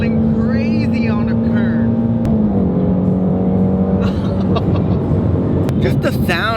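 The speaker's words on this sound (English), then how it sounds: "That high revving V8 is just bar none" A Shelby GT350's high-revving V8 holds a steady high-pitched drone while cornering, the pitch dipping slightly midway, loud and continuous with no talk.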